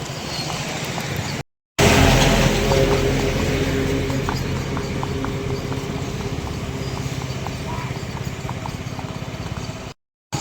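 A mare's hooves clip-clop in a steady, rapid rhythm on a road, close and loud over a constant rushing background, with brief dropouts near the start and end.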